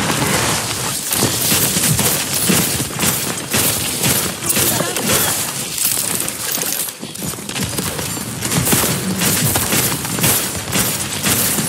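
A deployed turret fires during an Overwatch 2 match: loud, rapid, unbroken gunfire with dense overlapping battle noise runs nearly the whole time, easing only for a brief moment midway before resuming at full intensity.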